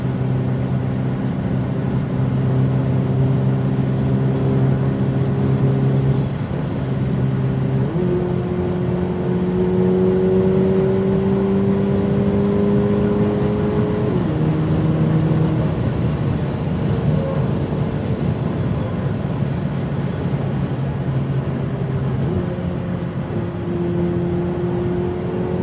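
A Ferrari 488 Pista's twin-turbo V8 pulls hard through the gears, its rising engine tone dropping at each upshift with a small pop, loud and sustained under constant road and cabin roar.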